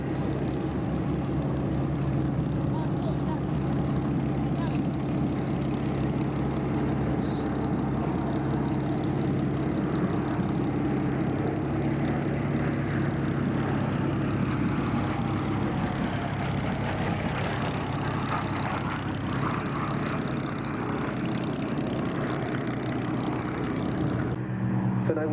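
The piston engines of the Red Bull 1958 Douglas DC-6B airliner drone at an air show, a steady low rumbling roar that holds evenly throughout at moderate loudness.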